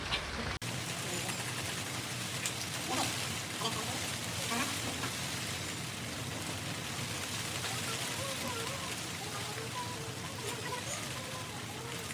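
Steady rain falling on surfaces, a dense, even patter that continues throughout, with people talking over it.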